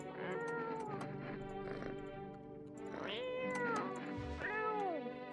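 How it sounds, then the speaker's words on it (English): A cat in a game meows several times in rising and falling cries, close and fairly clear over a soft background hum. "Let me pet the cat."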